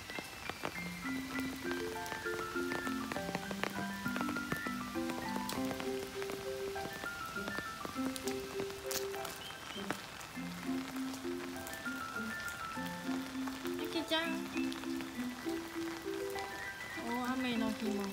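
Heavy rain falls steadily throughout a dog walk, a constant hiss of drops on the ground, with scattered tonal background sounds and no clear voices.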